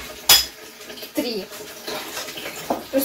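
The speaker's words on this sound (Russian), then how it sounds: "А чтобы арбуз помыть, нужно помыть вот эти две тарелки." Plates clatter and clink in a sink as they are washed, with a sharp knock early on and scattered scraping and rattling of plates and cutlery.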